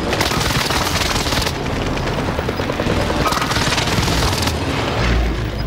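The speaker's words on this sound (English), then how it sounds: "Allied precision airstrike incoming." Precision airstrike explosions in Call of Duty Modern Warfare (2019), a loud, dense wall of booming blasts and rattling gunfire that rolls on unbroken for several seconds, close and heavy.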